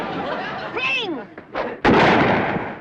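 Gunfire crack in a 1960s sitcom scene, a sharp loud burst near the end following a brief twangy comic sound effect and thumps, with an exaggerated cartoonish quality.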